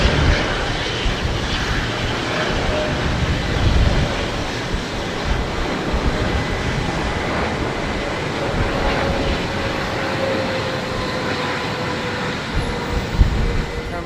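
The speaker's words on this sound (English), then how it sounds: "Qatar Airways Boeing 777-300, and of course that's coming from Doha, Qatar." A Qatar Airways Boeing 777-300 arriving from Doha at Heathrow roars as a steady, loud jet rumble that stays broad and sustained throughout, with no voices.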